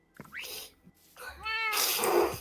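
A cat in the video game Minecraft lets out a short meow and a rising mewing cry amid other game noises, fairly close and loud, with no voices over it.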